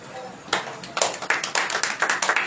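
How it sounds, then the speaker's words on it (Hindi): A congregation at a Hindi-language prayer service claps in rhythm, sharp near claps building in a steady beat after a brief quiet start. "ताली बजाएंगे हम।"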